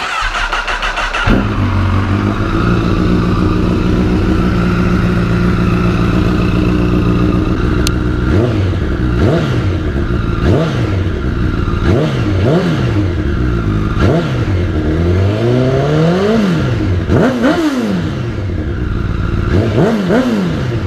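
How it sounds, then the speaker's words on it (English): A motorcycle with a Yoshimura R-77 exhaust fires up and idles loudly, then revs repeatedly in sharp bursts, the exhaust rising and falling with each blip of the throttle. "So that's what that exhaust sounds like"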